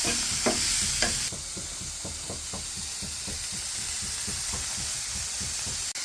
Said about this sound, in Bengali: এরপর মাছগুলোকে ভালো করে এধার ওধার নেড়ে নেব